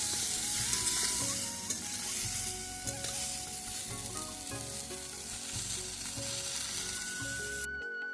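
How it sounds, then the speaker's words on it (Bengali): Cauliflower frying in hot oil at an outdoor winter picnic cookout gives a steady, even sizzle throughout, with tonal music playing underneath and a sudden cut near the end. "তো এখানে ফুলকপিটা ভেজে নিচ্ছি"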